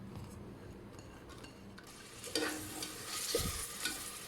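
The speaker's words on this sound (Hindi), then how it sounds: "प्याज को मैं करूँगी फ्राई" Sliced onions fry in about four spoons of cooking oil in a pan, a steady soft sizzle under occasional scrapes and clinks of a spoon stirring, growing brighter and busier midway.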